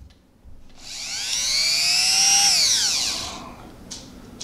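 WEN rotary tool motor spins up from about 0.8 s, whines steadily at its lowest speed setting for roughly two and a half seconds, then winds down and stops; loud and close, no talking.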